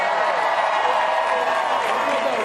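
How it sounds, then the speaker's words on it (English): Crowd at the NYSE Christmas tree lighting applauding and cheering, a dense steady wash of clapping and voices that fills the moment evenly without pause. "Give Officer Nash a round of applause."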